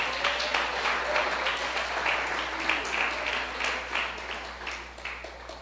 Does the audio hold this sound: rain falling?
no